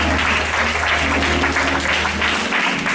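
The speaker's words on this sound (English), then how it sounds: "Clap your hands and say that." A church audience claps their hands together in a loud, sustained round of applause lasting a few seconds, with a low hum underneath.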